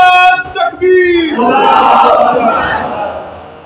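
At a religious gathering, one voice calls out the takbir and a large crowd then roars back in unison. The answer is a loud, sustained mass shout that swells and fades over a few seconds.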